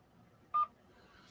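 A single telephone keypad tone for the number 2 sounds once, short and clear, against faint background hiss.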